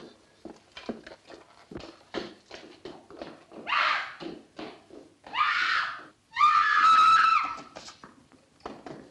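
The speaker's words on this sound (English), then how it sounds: "Who screamed?" A woman in an old horror film screams in several loud, drawn-out bursts, the last one the longest, after a stretch of brief clattering noises.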